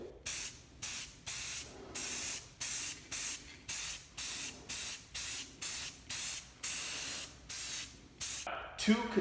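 Repeated bursts of aerosol spray from a can of PlastiKote engine enamel, held about a foot from a PC chassis, about a dozen short even hisses with brief gaps between, close and steady, ending in a rattle.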